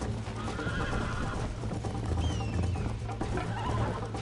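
A horse whinnies and its hooves clop over dense, steady background noise in the game Red Dead Redemption.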